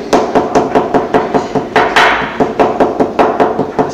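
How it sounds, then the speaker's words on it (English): A hammer pounds soaked papyrus strips during a papyrus-making demonstration, striking in a steady, rapid rhythm of sharp, loud, close blows with no voices. "they're using this one or this hammer."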